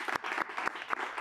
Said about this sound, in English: So I want to give them a round of applause for doing a great job.